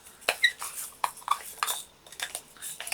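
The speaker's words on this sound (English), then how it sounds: "Excuse the noise of the pot." Metal pot clattering and scraping during jewellery crafting with liquid clay and rhinestones, a string of short squeaky clinks and knocks, close and fairly quiet, with no voices.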